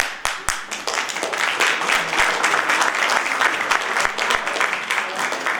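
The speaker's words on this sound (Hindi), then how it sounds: "एक बार जोर से तालियां" The crowd at a university convocation, Maharaja Agrasen Himalayan Garhwal University in Uttarakhand, bursts into sustained applause that swells quickly. A thick wash of many clapping hands holds loud and steady for several seconds.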